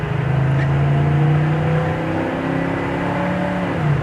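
A 1975 Chevrolet Nova's 262 V8 engine pulls hard and steady with a rising drone, the pitch climbing and then dipping as it shifts, close and loud inside the cabin.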